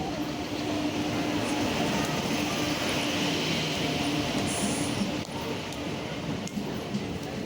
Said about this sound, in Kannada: ಟ್ರೈನ್ ಬಂತು.